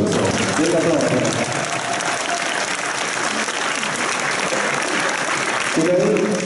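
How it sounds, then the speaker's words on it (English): An audience applauds two karate demonstrators at an event opening, with loud continuous clapping and brief voices in the background. "So, big applause."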